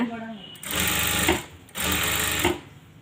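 Sewing machine stitching a neckline, two loud bursts of rapid mechanical whirring separated by short pauses, close up.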